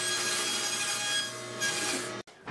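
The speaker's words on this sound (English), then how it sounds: "To cross cut it, I'm going to use my table saw sled." A table saw with a crosscut sled cuts through a board: a loud, steady, close whine of the blade in the wood that holds for about two seconds, then cuts off abruptly.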